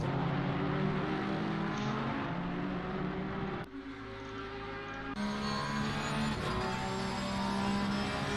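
Porsche and Ferrari race cars in a racing video game, steady loud engine drone with shifting pitch as gears change, a sharp cut partway through, no talk.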